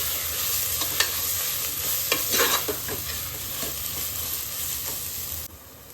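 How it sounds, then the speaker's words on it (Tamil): Ginger garlic paste sautés in a pan on low flame for chicken biryani, a steady soft sizzle with occasional scraping stirs of a spoon, close and without talk. "இஞ்சி பூண்டு வதக்கும் போது மட்டும் நீங்கள் வந்து லைட்டாக சிம்மில் வச்சுக்கிட்டு வதக்குங்க"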